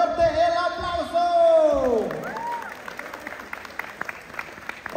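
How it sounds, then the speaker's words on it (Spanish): Crowd applause at a quinceañera party, a loud burst of clapping under an amplified MC voice and ringing music tones, fading into scattered claps and murmur. "Fuerte el aplauso."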